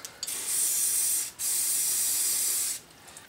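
Two bursts of carburetor cleaner sprayed from an aerosol can into a small engine's air box, each a sharp, steady hiss lasting about a second, close and alone.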